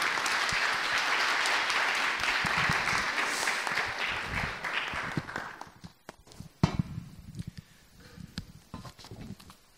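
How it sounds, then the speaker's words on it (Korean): A church congregation claps loudly to welcome a missionary, dense applause lasting several seconds before thinning into scattered claps, footsteps and light movement. "우리 김하열 선교사님 모실 때에 뜨거운 박수로 맞이하겠습니다."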